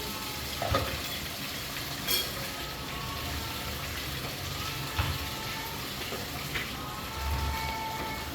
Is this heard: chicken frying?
yes